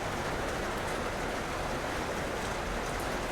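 Heavy rain falling at Baloy Beach, a dense, unbroken roar of downpour with no distinct drops standing out, steady and loud for the whole stretch.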